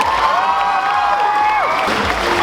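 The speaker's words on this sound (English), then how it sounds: "Give them a round of applause." Crowd cheering and applause for cosplay contestants at Aikon 2015, loud and continuous, with a sustained whistle or whoop tone riding over the noise and dipping near the end, then the crowd noise swelling again.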